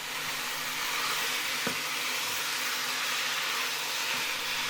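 Minced beef browning in a hot pan for a beef lasagne makes a loud, steady, hissing sizzle throughout, with a faint clack or two of stirring.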